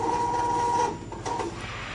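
An Epson L800 inkjet printer runs close by with a steady mechanical whirring hum that drops in pitch and level partway through, followed by softer clicking and shuffling of its mechanism.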